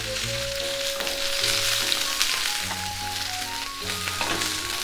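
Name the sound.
prawns frying and sizzling in a pan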